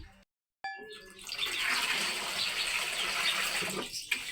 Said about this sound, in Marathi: चला तर मग आता घेऊ आपण भाजी धुवून